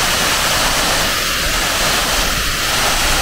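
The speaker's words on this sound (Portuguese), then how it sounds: "Essa daqui, eu acho que é a cachoeira do Salomão." Waterfall at Cachoeira do Salomão in Carrancas, Minas Gerais, a steady broadband rush of falling water that fills the whole clip at a constant, fairly loud level with no voices.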